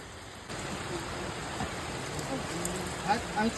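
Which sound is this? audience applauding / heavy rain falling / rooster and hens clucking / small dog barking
heavy rain falling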